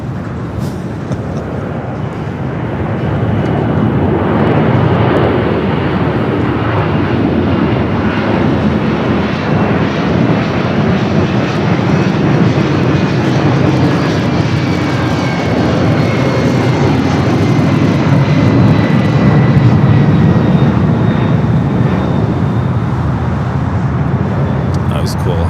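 A converted Boeing 767 at LAX produces a sustained, loud jet engine roar that swells after the first few seconds and holds steady, close and broad.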